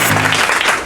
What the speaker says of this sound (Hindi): एक बार इन लोगों के लिए जोरदार तालियां।